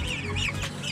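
Chickens cluck continuously up close in a backyard flock of 45-day-old birds kept with ducks, a steady busy chatter of short calls.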